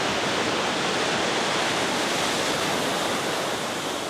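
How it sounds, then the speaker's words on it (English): Large ocean waves six to eight feet tall crash at high tide, surf roaring as a loud, continuous broadband wash close by, with water surging up to a seawall and no voices. "Crashing waves about 6 to 8 feet tall"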